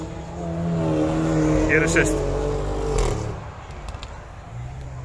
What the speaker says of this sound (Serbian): Evo ga, Ferrari.